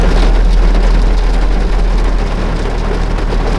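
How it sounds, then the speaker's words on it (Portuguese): A loud, continuous downpour hisses and drums steadily throughout, heavy rain close by with no talking. "Começou a chover muito forte lá"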